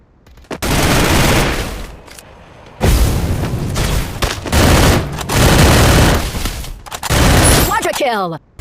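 Gunfire from the mobile shooter Free Fire, with a MAC-10 in play: loud, dense bursts of shots in several long volleys separated by brief gaps, ending with a rising electronic game effect.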